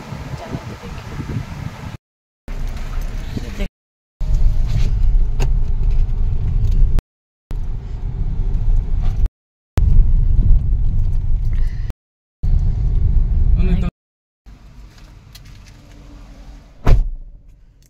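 A car's engine runs steadily while riding inside, a low rumble in several segments separated by abrupt cuts, with people talking over parts of it and a brief louder thump near the end.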